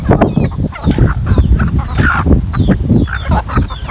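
Chickens at a turtle farm cluck and squawk loudly and continuously close by, a busy, noisy flock with overlapping calls and outdoor bustle.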